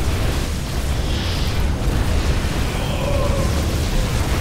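Planetary fortress firing in StarCraft 2 during a Desert Strike arcade match, dense continuous booming explosions under loud game noise, with someone talking in German over it.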